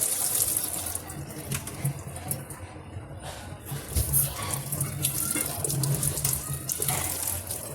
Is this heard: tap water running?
yes